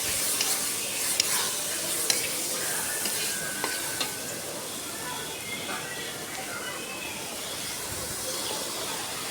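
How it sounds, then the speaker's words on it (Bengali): Pointed gourd fries with salt and chili powder in a pan, producing a continuous close sizzle with occasional clicks of stirring, and a voice is faintly present under it. "পরিমাণ মতো লবণ, মরিচের গুঁড়ো 2-3 মিনিট একটু ভেজে নেব"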